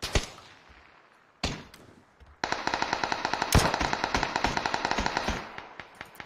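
Pistol fire in a video game: two isolated shots, then a fast, evenly spaced string of loud, crisp reports that runs for about three seconds before the final scattered shots.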